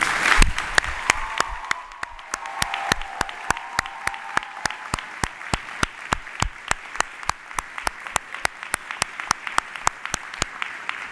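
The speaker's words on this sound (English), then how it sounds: "join me in giving a heartfelt round of applause and cheers to thank the people who helped you reach this special moment in your lives" Graduation audience at a spring convocation gives a loud round of applause with cheers, thick crowd clapping that thins into scattered, rhythmic individual claps before fading out.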